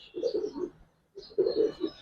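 Two close, soft bursts of cooing come from pigeons at a pigeon farm, separated by a short pause.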